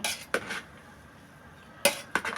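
A large pot of boondi laddu mixture, two kilograms, being stirred from the bottom with a metal spoon, giving a few close scraping clinks separated by a quiet pause.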